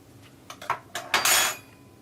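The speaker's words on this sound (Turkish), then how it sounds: "Şimdi şöyle bir tane kızartmanın kesip içerisini size göstereceğim." A few sharp clinks and scrapes of a knife against a plate as it cuts a fried stuffed meatball, building to a longer scraping cut near the end.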